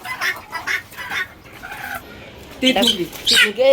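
Laying hens cluck in short, close bursts while a person talks over them, the calls growing louder and more frequent toward the end.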